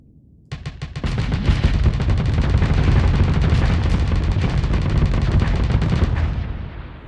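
Starsector spaceship weapons firing with an accelerated ammo feeder, a dense rapid barrage of gunfire bursts that starts abruptly and holds loud for about six seconds before fading.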